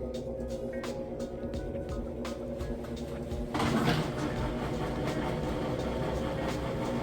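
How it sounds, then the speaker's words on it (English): A Whirlpool HE washing machine enters its final spin: a low mechanical rumble steadily builds as the drum speeds up, with a rising whir partway through and a constant hum underneath. "Alright, coming into that final spin."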